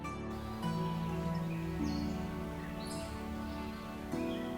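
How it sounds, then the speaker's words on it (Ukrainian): Birds chirp and call in a forest along a trail to Shypit waterfall in the Carpathians, scattered bright tweets over a steady low rumble of distant falling water, fairly faint with no voices. "Чутно спів птахів та наростаючий гул"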